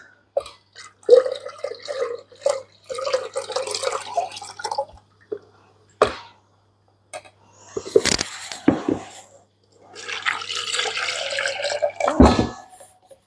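Water runs and splashes intermittently into a sink, with sloshing and dripping bursts as fresh homemade butter is rinsed of buttermilk, fairly close.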